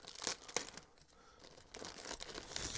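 Plastic packaging on an Academy SBD-5 1:48 scale model kit being opened with scissors, giving close, faint crinkling and tearing bursts in irregular rustles with no talk.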